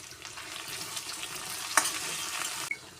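Chopped coriander leaves fry in hot oil for a Marathi dahi kadhi, giving a steady close sizzle with light stirring scrapes and a couple of sharp utensil clicks.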